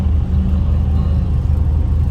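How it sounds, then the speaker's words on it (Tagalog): Continuous low rumble of city road traffic after Typhoon Odette, with steady engine drone and idling vehicles close by, no voices. "Traffic na dito sa CPG"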